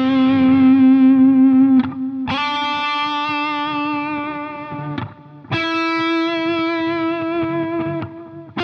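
Electric guitar lick played softly with the second finger through a distorted tone with light chorus, a few sustained, evenly picked notes ringing out one after another, with no talking.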